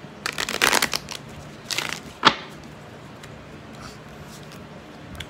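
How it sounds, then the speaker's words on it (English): Tarot cards are shuffled close by in a quiet room, with a few quick riffling bursts early on, a sharp snap near the middle, then soft faint handling. "get your tarot cards together, or not together, but shuffle."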